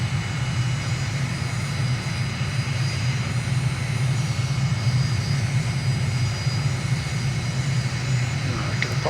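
Aircraft engine during a touch-and-go landing in a flight simulator game, set in Uruguay: a loud, continuous low jet drone that holds steady and close for the whole stretch, with no voices over it.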